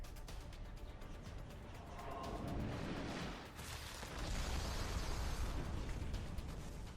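A rocket launcher blast in a Resident Evil game, a sustained roaring rumble that swells, dips briefly and surges again, loud and alone.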